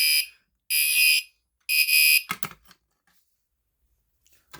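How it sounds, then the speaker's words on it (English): A Gentex Commander 3 fire alarm sounds during a system test, giving three loud, harsh electronic horn blasts followed by some faint clatter. "if you pull the fire alarm, the Gentex Commander 3 sounds"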